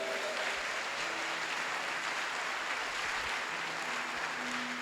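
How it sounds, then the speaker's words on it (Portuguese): A church congregation claps together in praise, a steady wash of many hands at moderate volume, with faint tonal hum underneath and no clear speech. "Vamos aplaudir o Senhor."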